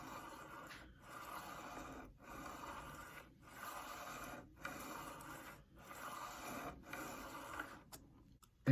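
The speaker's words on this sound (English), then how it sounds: "take your file, and you kind of want to start at an angle, so maybe like a 45, and you want to go back and forth" A file rubbed back and forth across guitar frets during fret levelling, a rhythmic series of about seven rasping strokes with short pauses between, close and fairly quiet.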